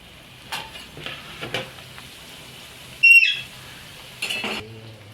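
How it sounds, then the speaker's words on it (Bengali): Sattu kachori deep frying one by one in hot oil, a steady low sizzle throughout with a few louder bursts of bubbling and a brief clink of a utensil near the middle. "তেল গরম হয়ে গেছে, এবার আমি একটা একটা করে দিয়ে ভেজে নিচ্ছি।"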